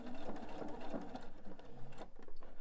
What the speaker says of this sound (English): I'm at my machine, and I'm simply going to sew from the fold to my raw edges